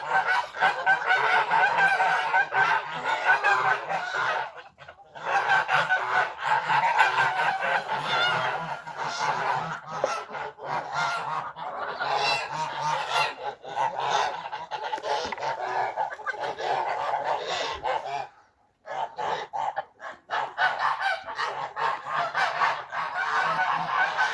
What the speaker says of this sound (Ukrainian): пішли вже до тазіка купатися і вже починають гусаки кидати шию